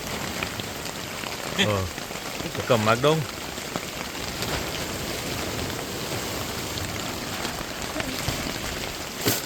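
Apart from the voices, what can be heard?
heavy rain falling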